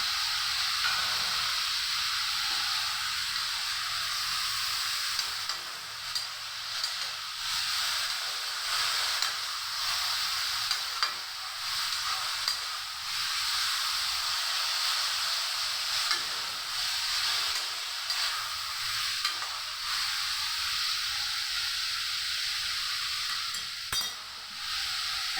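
Fried potato pieces go into a hot pan of oil while cooking cabbage with fish heads, producing a steady loud sizzle and hiss throughout, with occasional stirring scrapes and no talking.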